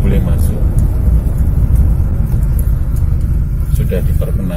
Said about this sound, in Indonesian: Sudah diperkenankan kendaraan bermesin.